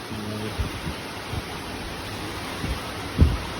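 Heavy summer rain driven by strong wind, a steady, dense hiss that fills the whole clip with a few soft low thumps, and no voices.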